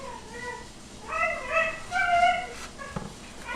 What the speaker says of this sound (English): You're going to hear my dogs going crazy.